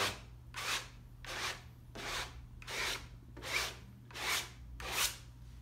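A brush drags gesso across a stretched canvas in six evenly spaced rasping strokes, each a soft, scratchy swell that rises and fades with the rhythm of the brushwork, heard close and alone over a low hum.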